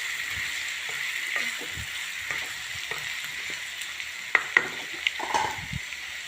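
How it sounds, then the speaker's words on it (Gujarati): Bottle gourd and chickpea curry frying in a pan gives a soft, steady sizzle, with occasional clinks and scrapes of stirring against the pan, the sharpest ones near the end. "ફ્રાય થવા દેશું સરસ."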